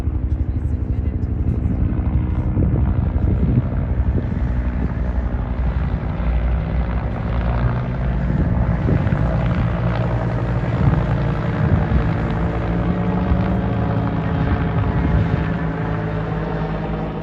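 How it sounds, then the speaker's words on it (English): Steady low rumble of a helicopter overhead, a continuous droning engine with rotor-like pulsing that holds at a fairly loud level throughout. "Helicopter, fixed wing."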